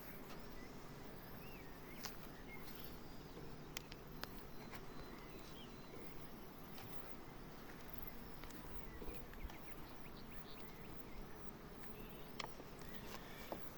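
Honeybees at a hive in the Alazan valley, a faint steady buzzing hum with scattered soft ticks and clicks throughout, no voices.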